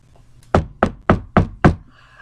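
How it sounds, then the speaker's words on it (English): Five firm knocks on a door, evenly spaced and loud, in an otherwise quiet room. "You know who's knocking, right?"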